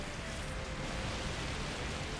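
Steady rain weather effect from the Pokemon XD: Gale of Darkness video game, a continuous even hiss of falling rain filling the short stretch without any break.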